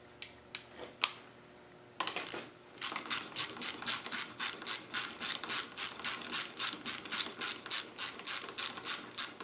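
A ratchet winds bolts down on a Land Rover 300Tdi engine, first a few isolated clicks, then a steady run of close, crisp ratcheting strokes in an even rhythm.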